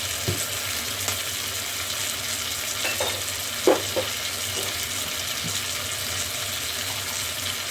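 Chicken and cashew nuts stir-fried in a wok with sesame oil, a steady low sizzle running throughout with a few scattered clinks and scrapes of the spatula standing out now and then.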